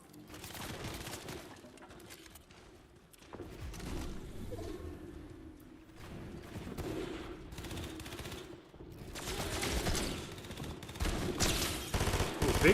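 Rapid bursts of gunfire in Fortnite come in several volleys with short gaps between them, loud and punchy at the end, with no voices.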